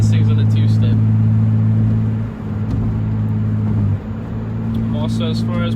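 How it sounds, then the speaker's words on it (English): A 2003 Mitsubishi Eclipse with a catback exhaust idles close by with a loud, steady low drone that dips briefly twice, while someone talks over it at the start and end. "I've never heard anything that I like with just the catback exhaust as much as I like this"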